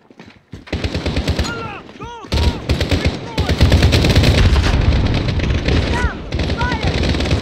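Rapid gunfire in Call of Duty Modern Warfare 2019, dense bursts of automatic machine-gun fire close by with ricochet-like whines, mixed with shouted voices over the battle.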